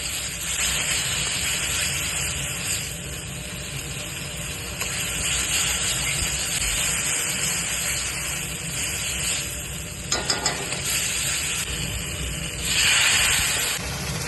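Water poured into frying spice masala for a rohu fish ball curry, a continuous steamy hiss and bubbling sizzle throughout with a brief clatter and a louder surge of steam near the end.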